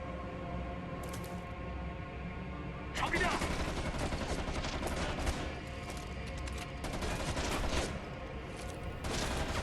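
Rapid gunfire from a low-recoil weapon in the shooter Homefront The Revolution, bursts of loud close shots over game sound, with someone talking over it.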